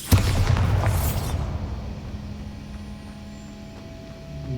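A Bombarda spell in Hogwarts Legacy goes off as one loud blast that booms for about a second, then decays into a low, fading rumble and hum.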